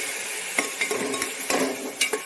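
A spoon stirs salt into onions, ginger-garlic paste, oil and mustard seeds in a pan, making several distinct scraping strokes at an uneven rhythm over a faint sizzle.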